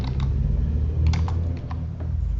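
Typing a test paragraph on a computer keyboard, a steady patter of soft keystrokes over a low hum, continuous for a couple of seconds with no talk.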